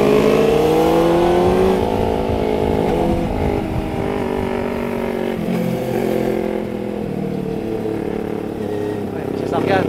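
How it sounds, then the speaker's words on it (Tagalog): A passing vehicle's engine revs loudly nearby, its pitch rising and falling in sweeping tones before easing off, with people talking over it. "Ay, sasakyan."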